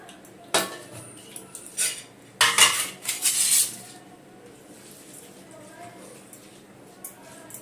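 A steel plate and cutlery clink and scrape at a home meal of rice with fish curry, a handful of bright, irregular knocks and clatters close by, with quiet stretches in between.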